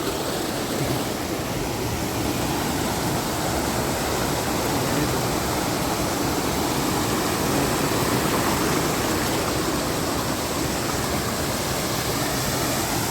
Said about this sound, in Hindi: ये झरना जैसा गिरता है यहाँ पे